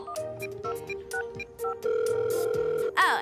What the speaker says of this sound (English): And finally, the long distance phone call.